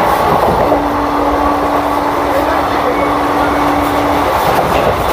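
A Digha special summer train from Santragachi running fast on its rails, heard from inside the coach as a loud, continuous rumble with rhythmic wheel clatter and a sustained squealing tone through the middle.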